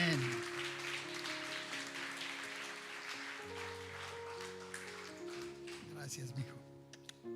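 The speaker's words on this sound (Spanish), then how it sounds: "Dale ese fuerte aplauso al Señor." Steady applause from a church congregation fills the room, with sustained musical tones and voices underneath as the clapping carries on throughout.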